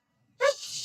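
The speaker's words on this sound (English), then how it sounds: "No barking. No barking." A dog gives one sharp bark, close and clear, after a moment of silence, and then a fainter whine trails off.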